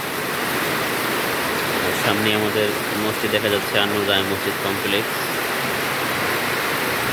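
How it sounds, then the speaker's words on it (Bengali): Rain falling steadily at a madrasa near a mosque complex, a dense continuous hiss that fills the whole clip while someone speaks over it in the middle. "বৃষ্টি পড়তেছে অনেকদিন পরে, আল্লাহ তাআলার রহমতের বৃষ্টি"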